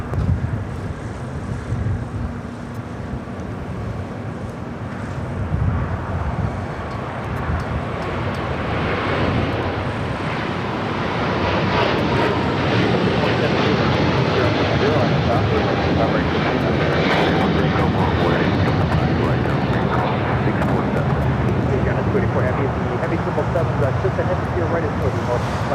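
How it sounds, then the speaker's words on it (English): EVA Air Boeing 777-300ER departing LAX for Taipei, engines building to a loud sustained roar that swells over the takeoff roll with wind buffeting and a voice talking over it. "This is Eva Air Flight 5 taking off to Taipei on a 777-300ER."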